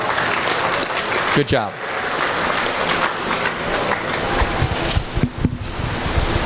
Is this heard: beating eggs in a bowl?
no